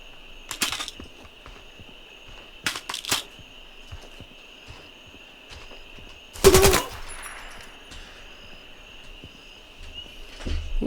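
Short bursts of machine gun fire crackle in a video game at brutal difficulty, spread out between quiet stretches, with one loud close burst in the middle and a steady insect-like hum behind.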